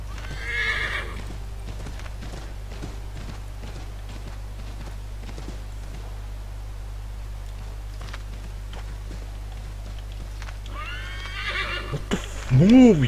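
A horse in the video game Assassin's Creed 3 whinnies at the start and gives a loud, close neigh at the end, with its hooves clip-clopping steadily through the game's background ambience in between.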